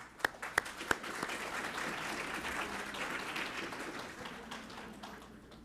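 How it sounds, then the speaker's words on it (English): Applause from attendees at a Fort Worth ISD school board meeting, a steady roomful of clapping with a few sharp near claps at the start, holding for several seconds before slowly thinning out. "Let's give her a round of applause"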